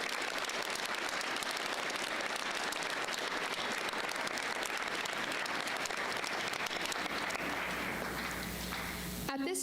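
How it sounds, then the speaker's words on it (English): A school audience at a Veterans Day assembly claps steadily for teachers and staff, a dense sustained roar of applause that fades near the end. "Please give our teachers and staff a round of applause."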